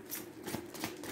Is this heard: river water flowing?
no